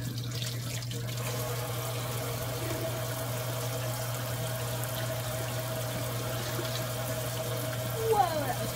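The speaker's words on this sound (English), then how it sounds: "Now I'll just wash that off my hands." Tap water runs steadily into a sink as hands are washed, a constant close hiss of flow throughout with a faint steady hum beneath and a brief louder splash near the end.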